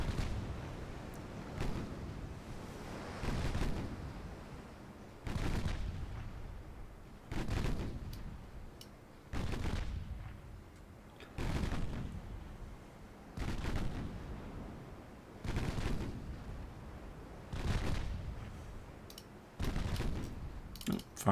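Warship guns fire in a naval combat game, heavy booming salvos arriving at a regular pace roughly every two seconds, each decaying before the next, with a faint mechanical backdrop between them.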